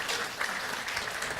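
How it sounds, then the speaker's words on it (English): Audience applause fills the whole moment at a pancake breakfast, a steady dense patter of many hands clapping at moderate volume without pause. "Give her a round of applause."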